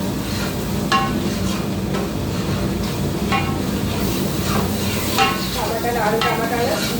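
Curry being stirred in a cooking pot, with a fish curry made with tomatoes and okra cooking, gives steady scraping and stirring with a sizzling, frying hiss underneath and a few sharper clinks of the spoon against the pot.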